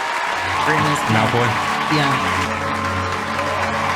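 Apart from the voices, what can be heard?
applause in Harry Potter film scene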